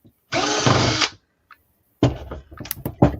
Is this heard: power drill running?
yes